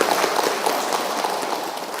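Applause from a women's gathering at a Ramadan religious study event, a brief, close, dense patter of clapping that holds steady throughout.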